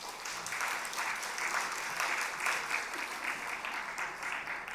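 Congregation clapping in a church during a Sunday afternoon service, a dense, even burst of applause lasting a few seconds at moderate distance.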